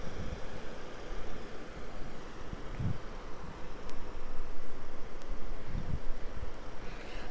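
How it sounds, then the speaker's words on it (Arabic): A Chevrolet Malibu LTZ with a 3.0-litre V6 idles steadily, a low, even engine hum with a couple of faint knocks and no talking. "هذا هو المحرك V6"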